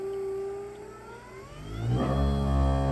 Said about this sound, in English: I'm going to show you the spindle running here.